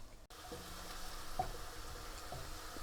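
Chopped green coriander and chillies are stirred into onions frying in a karahi for seek kebab karahi, with a faint low sizzle and a few soft scraping stirs of the spoon.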